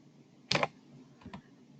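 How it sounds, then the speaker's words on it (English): Quick keystrokes on a computer keyboard while entering the word Bratislava, a short cluster of close, crisp clicks followed by two fainter taps, no voice present. "So if I type in Bratislava"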